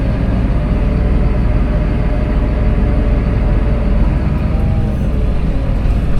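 A tractor backs up to unfold a Mandako land roller, its engine a loud, steady low drone running without pause.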